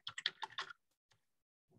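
A quick run of keystrokes on a computer keyboard, close and clear, followed by a couple of isolated taps and a faint trailing rustle.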